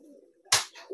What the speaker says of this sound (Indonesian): Ini jenisnya merpati kolong, teman-teman.